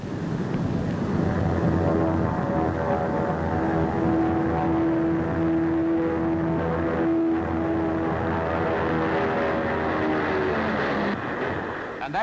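A large ten-engine turboprop airliner flies over Farnborough at an air show in 1952, giving a steady, loud drone with sustained engine tones throughout, slightly easing near the end.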